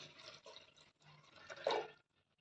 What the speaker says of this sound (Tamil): இப்போ இதுக்கு தேவையான அளவுக்கு தண்ணி ஆட் பண்ணிக்கலாம்.